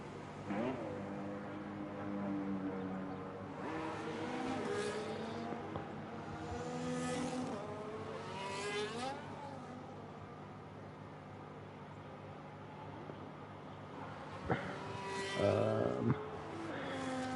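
McLaren race cars rolling out onto the track in a sim racing game at a Spain round, engines droning and revving with shifting tones that rise and fall, plus a louder burst near the end.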